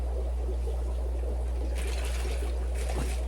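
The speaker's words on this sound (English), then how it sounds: "So add some water." Water poured into a plastic bag for bagging fish makes a short splashing trickle over the second half, over a steady low hum, with no talking.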